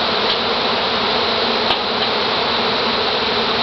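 A swarm of bees buzzes steadily and densely throughout, a loud continuous drone with no voices.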